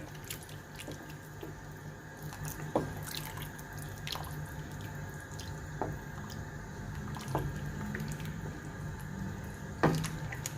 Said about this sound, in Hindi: 3 टेबलस्पून कॉर्नफ्लोर को पानी में घोल लिया, तो वो हम इसमें ऐड कर देंगे।